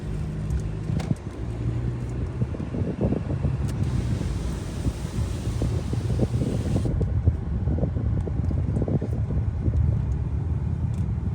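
Steady low road rumble and tire noise inside an entry-level Mercedes (GLB or C-Class) cruising with the windows up, a continuous muffled drone with faint wind hiss and occasional bumps, no talking.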